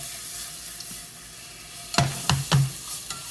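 Garlic in a hot pan for marinara sauce gives a soft, faint background sizzle, broken by three sharp stirring scrapes close together near the end.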